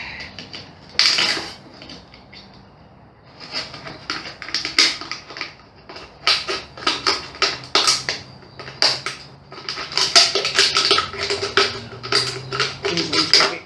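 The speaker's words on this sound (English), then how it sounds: "And then get the scissors onto it." Scissors cut through a plastic pool water test gadget up close, a run of crisp snipping clicks and crunchy snaps that comes faster and denser after a short quiet start.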